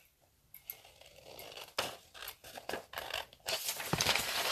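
Scissors cutting out a paper piece for a scrapbook layout, a series of crisp snips and rustling paper crinkles, close and irregular, growing busier toward the end with no voices.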